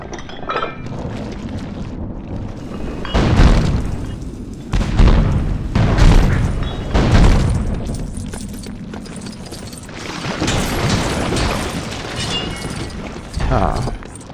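Bombs explode in Lego Pirates of the Caribbean as a series of loud booms with clinking, breaking debris, repeated through the passage over game sounds and some speech.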